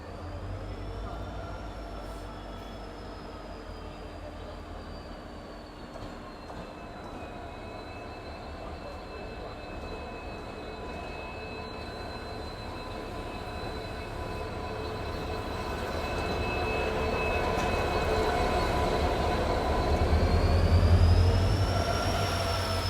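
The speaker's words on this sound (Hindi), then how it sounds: "ये अपना इंजन ट्रैक चेंज करके इस ट्रैक पे आ गया" Indian Railways locomotive idling on a ghat section station track, a steady low engine rumble with faint tonal whine that swells louder toward the end, heard alone without talk.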